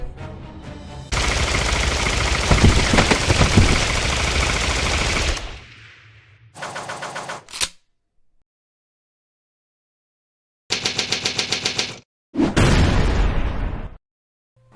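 Machine gun fire from Capcom's Darkstalkers as B.B. Hood empties a 20-round magazine: a loud, dense sustained burst, then several shorter separated bursts with brief silent gaps between them, and no talking.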